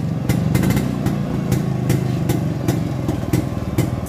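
A vintage 1960s motorcycle engine runs steadily after being shifted into gear, a loud, close, continuous mid-pitched throb with a regular pulsing beat and no talk over it.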